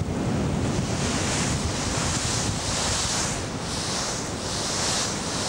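The mighty bow of the cargo ship MS Atlas plunges heavily into the sea, bringing a constant loud roar of rushing water and surf over wind buffeting the microphone, with no speech.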